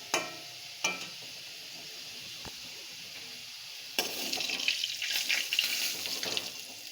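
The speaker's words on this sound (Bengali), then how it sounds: "তো এখন আলুটা আমি সুন্দর করে ভেজে নেব" Potato pieces frying in hot oil in a home kitchen, a few sharp clinks early on, then a steady close-up sizzle that swells into louder crackling and bubbling over the last few seconds, with no voices.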